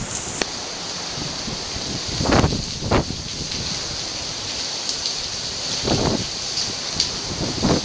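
Wind gusts during a winter storm in Scottsdale blow steadily with a broad rushing hiss, swelling into several louder buffeting surges against the microphone, with no talking.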